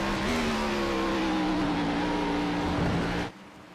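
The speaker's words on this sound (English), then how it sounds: "You can hear the blip on the downshift there." A simulated race car in the iRacing game at Watkins Glen holds a loud, steady engine drone, then gives a quick rev blip on a downshift before the sound drops away abruptly near the end.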